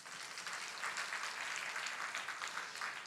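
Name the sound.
congregation applause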